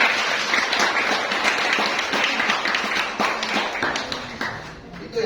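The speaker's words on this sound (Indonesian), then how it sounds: "Tepuk tangan buat kalian semua." A seated audience at a motivational talk claps in a loose, uneven burst, individual hand claps standing out as the applause thins, with faint voices underneath before it fades out.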